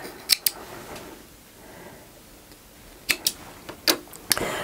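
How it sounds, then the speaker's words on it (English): Scissors snip sewing thread during work on a hexagon-patch fabric basket, giving several sharp, close clicks: a quick pair near the start, then a cluster of separate snips later over a quiet room. "And I'll snip my thread."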